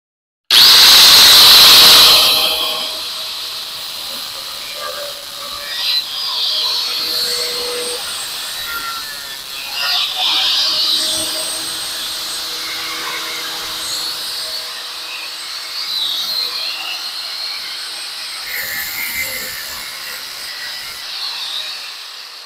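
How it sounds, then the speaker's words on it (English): A high-pitched power tool whines as it cuts off protruding bolt ends on a mirror project, a loud sharp burst at first and then a sustained grinding buzz, close up, with no talking. "we're going to nip off the ends of those bolts that are sticking out"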